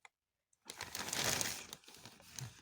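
A plastic ATB supermarket shopping bag crinkles and rustles close by. After a near-silent start it becomes a dense, continuous scrunching that swells and then eases off.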